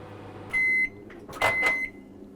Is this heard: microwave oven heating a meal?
yes